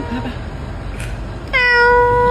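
A cat meows once, loud and close, a clear tonal cry that sets in after a quieter stretch of room noise with a faint brief rustle.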